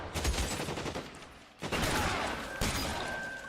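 Gunfire in the L.A. Noire video game, a dense roar of loud blasts and echoing shots with two sharp bursts standing out, no talk over it.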